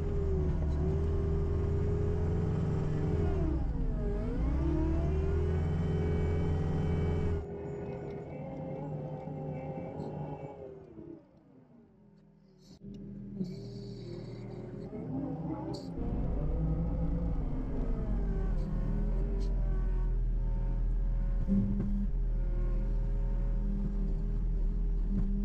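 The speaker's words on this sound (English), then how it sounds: "for what I'm doing today, I'm going to use the skid steer." A skid steer loader's engine runs close by with a steady droning hum that shifts in pitch as it revs, drops away to near quiet midway, then returns to a full rumble.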